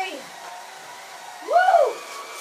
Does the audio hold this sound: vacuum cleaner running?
yes